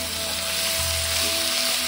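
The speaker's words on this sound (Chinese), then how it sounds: "然后把鸡爪倒进来翻炒，让鸡爪吸收大料的香味" Chicken feet stir-fried with star anise in hot oil in a wok, giving a steady, loud sizzle that holds throughout, with a faint stirring scrape underneath and no voices.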